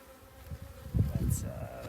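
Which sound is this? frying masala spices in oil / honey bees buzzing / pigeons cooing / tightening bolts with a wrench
honey bees buzzing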